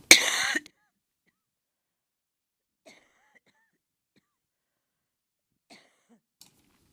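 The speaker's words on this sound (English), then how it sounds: "appropriate I should cough during a healthcare segment." A single sharp cough at the very start, close and loud, followed by near silence with only a few faint soft clicks.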